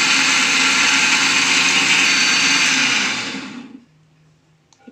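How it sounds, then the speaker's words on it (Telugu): Kitchen mixer grinder whirring loudly while grinding a coconut and coriander paste with a little water, a steady motor drone that spins down and stops near the end. "ఇప్పుడు జార్ మూత పెట్టుకొని మిక్సీ వేసుకోవాలి."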